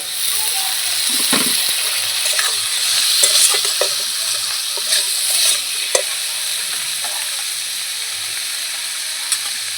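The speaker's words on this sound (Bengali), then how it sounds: "এবারে সব জিনিসগুলো আমি ভালো করে কষিয়ে নেব" Spices, cumin powder and tomato frying in a pan: a loud, close, dense hiss of sizzling with occasional stirring scrapes and clicks, steady throughout.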